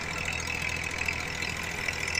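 A Massey Ferguson 1035 DI tractor, a 2011 Maha Shakti model, runs while pulling a 7-foot Param rotavator, giving a steady, even engine drone that stays unbroken throughout at a moderate level.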